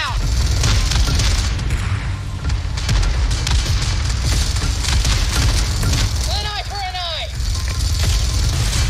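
A vehicle blows up in the PUBG video game, a loud boom over dense battle noise and engine roar, with a short burst of whooping electronic tones near the end.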